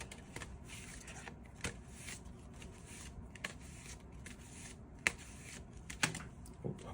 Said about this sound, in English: let's shuffle and draw 3 cards.